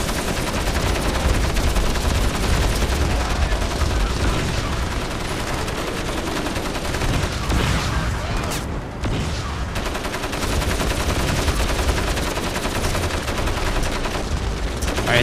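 Dense, loud gunfire from the video game Crysis: continuous rapid automatic bursts and shots layered over each other, barely pausing across the whole stretch.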